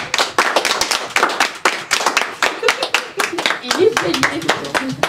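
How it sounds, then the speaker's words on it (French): Clapping and applause from a small group at the end of a short film's making-of, brisk uneven hand claps close by with cheering voices mixed in throughout. "Bravo, applaudissements."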